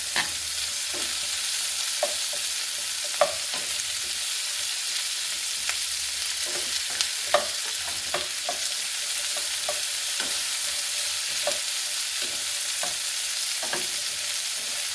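Squash, zucchini, onions and potatoes fry steadily in a pan, a constant close sizzle broken by repeated soft scrapes and clicks of stirring, with no talking.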